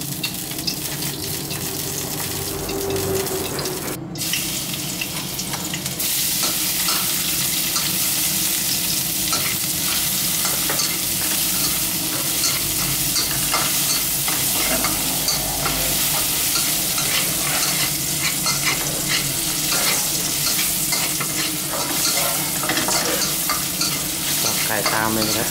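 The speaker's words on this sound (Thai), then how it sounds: "เดี๋ยวเราจะนำพริกกับกระเทียมลงไปเคี่ยวกันนะครับ" Chili and garlic sizzle and fry in a pan while being stirred, making a steady, loud crackle that runs continuously with a brief scrape near the start.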